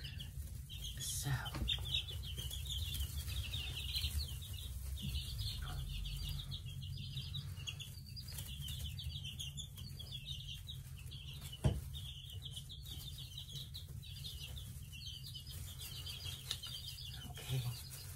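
Nine-day-old buff cochin chicks kept with ducklings give a continuous stream of high, rapid peeping chirps. The chirping is fairly faint against a low background hum, with a single sharp knock midway.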